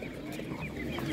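Chickens cluck softly in a short burst at an animal market, close but faint, with light background murmur.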